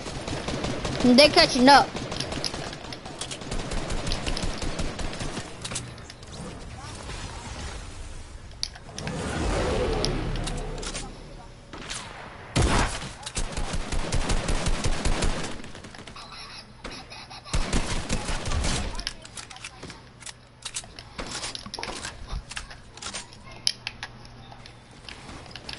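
Video game gunfire crackles in repeated bursts through much of the stretch, loud rapid volleys mixed with single shots, while players talk over it.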